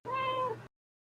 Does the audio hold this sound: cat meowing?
yes